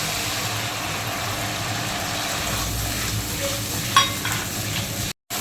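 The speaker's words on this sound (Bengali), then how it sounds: "এবার দিয়ে দেবো আমি এর মধ্যে কাজু আর চালমগজ আছে পেস্ট করা, এবার এটাকে দিয়ে দেবো।" Cashew and melon seed paste frying and being stirred in a pan for a vegetarian cabbage paneer dish, a steady close sizzle with scraping, one brief clink near the end and a short dropout.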